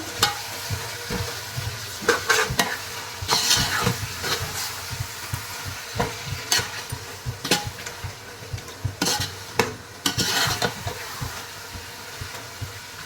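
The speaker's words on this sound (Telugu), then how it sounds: "మనం టమాటాలని యాడ్ చేసుకుంటున్నాం. ఇదంతా కలుపుకోవాలి బాగా." Tomatoes stirred and frying in a pan for chicken biryani, with a steady sizzle under repeated scraping strokes of a spoon against the pot, close and moderately loud, with no talking.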